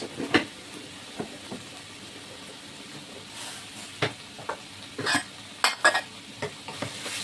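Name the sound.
turmeric and Kashmiri chilli powder frying in pan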